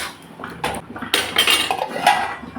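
Metal utensil clinks and scrapes in a cooking pot of Bengali hilsa fish with taro greens, green chillies, turmeric and salt, a few sharp close knocks and a lid clank, alone without talk.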